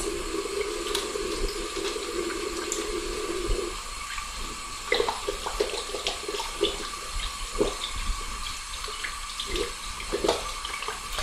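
Steady rush of warm tap water runs into a sink, then breaks into irregular splashing and rubbing as soapy hands lather under the stream; no talking.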